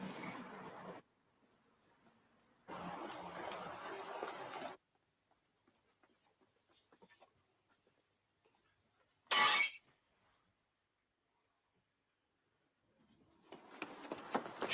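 A glass pane in a house door smashed by intruders: one sharp, loud crash of breaking glass, brief and alone, set among quieter stretches and bursts of broadband noise.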